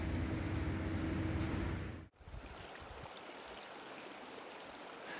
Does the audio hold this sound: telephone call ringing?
no